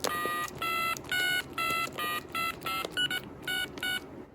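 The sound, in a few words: DTMF touch tone from Trimline telephone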